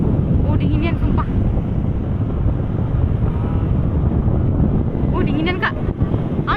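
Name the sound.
strong wind blowing into microphone at night on Palembang bridge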